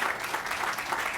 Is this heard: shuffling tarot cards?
no